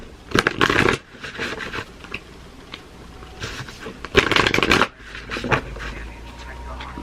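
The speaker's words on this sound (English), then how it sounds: "I've got to get a few oracle cards here." Oracle cards are shuffled in several quick riffling bursts, loud and close, with short pauses between the rounds of shuffling.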